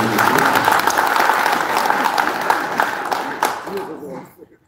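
A hall full of elderly attendees at the inauguration of Lee Joong-keun as Korea Senior Citizens Association chairman applauds Seoul mayor Oh Se-hoon as he comes up to speak: dense, steady clapping that thins out and fades to silence in the final second.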